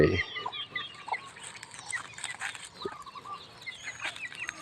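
Roosters and hens around a Thai Buddhist temple ground in the morning, with clucking and a crow-like call amid scattered chicken sounds and light background activity.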